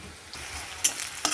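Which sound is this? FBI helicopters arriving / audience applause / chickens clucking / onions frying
onions frying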